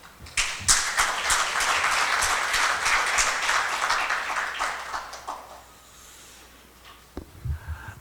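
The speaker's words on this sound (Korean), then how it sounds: "큰 박수로 모시겠습니다" Audience applause at a local council academy event in Daegu, loud dense clapping welcoming a speaker to the podium, sustained for about five seconds before fading, followed by a few thumps and faint noise.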